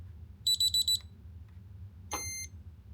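A quick run of four short electronic beeps from a fingerprint gun safe, then a pause and one longer tone, crisp and close against a low hum.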